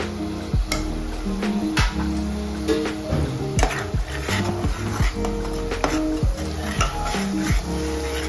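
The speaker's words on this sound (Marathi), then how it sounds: "तर हे प्रॉपरली आपण मिक्स करून घ्यायचं आणि 5 मिनिटं असंच गॅसवरती ठेवायचं" Potatoes and chauli (black-eyed beans) for bhaji are stirred with red chilli powder, Malvani masala and turmeric in a pan: repeated metal scrapes and clanks over a steady sizzle, close and fairly loud.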